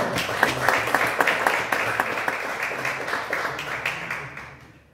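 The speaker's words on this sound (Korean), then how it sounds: "박수해 주시기 바랍니다" Applause from an audience at a book launch event greets a pastor being introduced, dense clapping filling the room and slowly fading out, with faint voices underneath.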